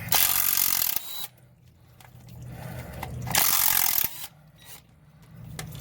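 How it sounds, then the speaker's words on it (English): A ratchet works bolts out of a transmission cover on a Dodge Ram second-gen NV5600, with loud bursts of rapid clicking ratcheting, short pauses between strokes, close up. "Now we're going to pull the rest of the bolts out here."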